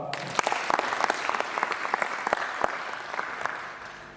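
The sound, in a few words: audience applauding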